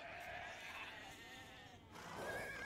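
Sheep bleating in Age of Empires II: Definitive Edition, a drawn-out wavering bleat followed by a second higher cry, loud and close with no talking.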